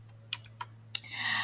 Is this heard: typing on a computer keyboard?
yes